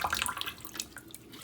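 Water is poured out of a snail tank, a quick splashy gush that starts strongest and trails off into scattered trickles and drips, close and fairly quiet.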